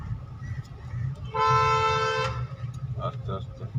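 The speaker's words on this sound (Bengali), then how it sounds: "হর্ন মার" A car's horn blares once for about a second during a driving lesson on a city road, loud and steady over engine hum, with people talking before and after.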